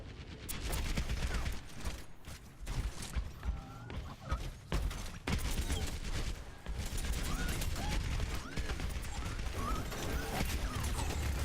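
Sustained gunfire from Bastion in turret form in Overwatch during a competitive match, dense and continuous with crashes and mechanical clatter across the whole stretch.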